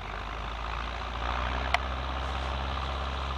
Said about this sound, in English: That's the tractor that's making all the sound right there.